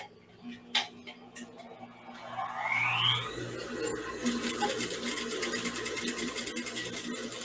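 Sewing machine stitching an invisible zipper, a close steady mechanical whir with rapid ticking that starts after a few handling clicks, while a person talks over it.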